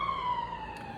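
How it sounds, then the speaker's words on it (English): Emergency vehicle siren passing outside, a steady wailing tone gliding slightly downward, moderately loud and distant through walls, without other sounds. "excuse the sirens"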